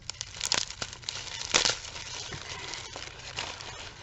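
Wrapping paper crinkles and tears as a taped gift package is opened, with sharp rustling bursts and crackles close to the listener, no talk over it.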